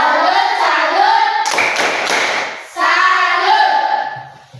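A group claps the tepuk salut in a steady rhythmic pattern, with a burst of denser, louder clapping in the middle before the even beat resumes, children's voices faintly mixed in.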